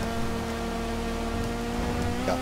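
A car drives in Grand Theft Auto 5, its steady engine drone and road whir holding level and unbroken throughout, with no talk over it.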